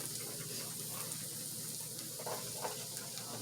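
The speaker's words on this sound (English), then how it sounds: "So we're just going to saute all the vegetables together." Roasted red bell peppers and mixed vegetables sauteing for ratatouille, giving a steady, soft sizzle with faint stirring scrapes throughout and no talking.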